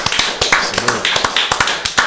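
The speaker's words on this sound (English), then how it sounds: "Round of applause for my guests tonight." A small audience claps for a show's guests, giving a sparse, close patter of individual hand claps in an uneven rhythm that lasts a couple of seconds.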